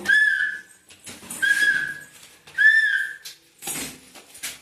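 A person whistles a series of short, bright tonal phrases in three bursts, with faint clatter and rustling in between and no talking.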